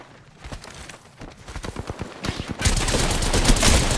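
Rapid gunfire in the shooter game Vantage crackles as quick bursts of shots that build into a dense, loud stream of fire toward the end.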